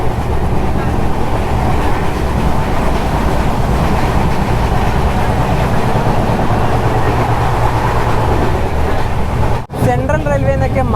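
A train on the Konkan Railway, the Mandovi Express in monsoon season, runs with a loud continuous rumble and dense rhythmic wheel clatter heard from on board, ending in an abrupt break.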